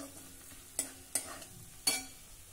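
Asafoetida and turmeric are sautéed in a pan while making a tur dana (pigeon pea) kachori filling. A quiet, soft background sizzle is broken by three sharp spoon scrapes and stirs.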